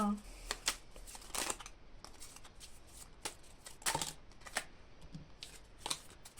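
Cards from a spiritual guidance deck shuffle and slide in quick dry riffles and flicks, close and fairly quiet, while someone speaks softly over them.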